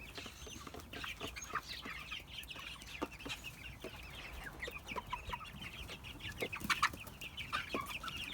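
A mixed-age backyard flock including Americanas cluck and chatter softly at moderate distance, a steady busy stream of overlapping clucks and short calls with no talking.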